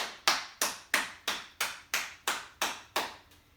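Hands clap about ten times at a slow, steady pace during a healing yoga exercise, each clap sharp and close with a short decay and nothing else heard.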